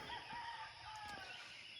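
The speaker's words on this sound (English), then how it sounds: "damn chickens" Chickens in a backyard during a July 4th barbecue, with a faint, distant rooster crow carrying over low background noise for a couple of seconds.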